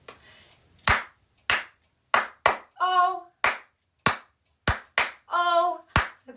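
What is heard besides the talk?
children clapping hands along to the Bingo song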